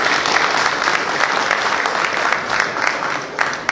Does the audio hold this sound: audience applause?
yes